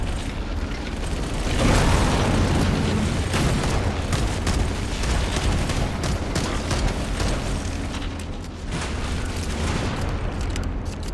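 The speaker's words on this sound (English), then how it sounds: "That did it. The pulse generator overloaded." A pulse generator in Halo overloads and explodes as a sustained, loud roaring boom with rumbling debris and mechanical noise, swelling early, then easing off before a fresh burst near the end.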